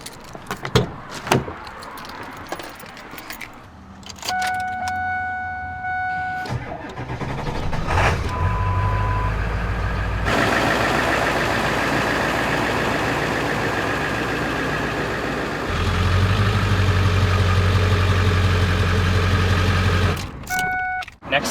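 A pickup truck, parked with a camper cabin on its bed during a roof rebuild, starts up and idles, its steady low engine rumble swelling as it moves and running nearly continuously, with a few clicks and door sounds at the start and end.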